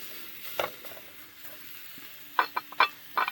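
Raccoon ribs searing over open flames outdoors, soft crackling and hissing broken by several sharp pops and snaps, close and fairly quiet with no talking.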